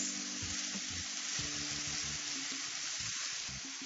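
Peppers sizzle and fry in a hot pan coated with a touch of olive oil, a steady close hiss that runs throughout, with a few soft knocks and stirring movements underneath.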